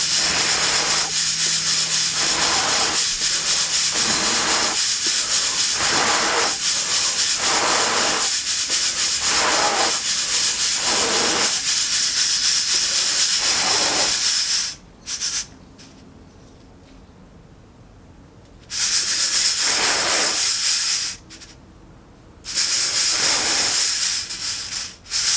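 Roasted coffee beans are shaken and blown on to clear the chaff: a loud, steady rustling, rattling hiss of beans tossed in a container with rhythmic pulses, broken by two short quieter pauses.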